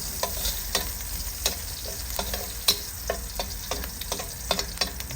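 Garlic sautéing in olive oil in a pan, a soft continuous sizzle broken by regular sharp spatula taps and stirring clicks, nobody speaking.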